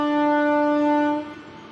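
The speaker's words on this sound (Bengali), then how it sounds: "ফাঁকা ট্রেন ফিরে চলে গেল বাঁকুড়া" An empty passenger train pulls away toward Bankura, its horn sounding a loud, steady chord-like blast that cuts off after about a second, leaving a fading rumble.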